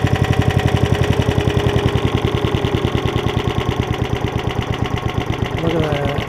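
A Briggs & Stratton engine on a 1996 Toro Super Recycler lawn mower idles smoothly and close by, with a loud, even, rapid putter that stays steady throughout.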